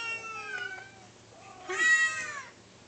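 A Siamese cat gives a single clear, rising-then-falling meow close by, preceded by a few softer vocal sounds, against a quiet room background.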